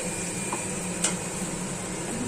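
Chopped tomatoes go into a hot pan for paneer bhurji, stirred steadily as a soft, continuous sizzle hisses, with a brief scrape of the spoon against the pan.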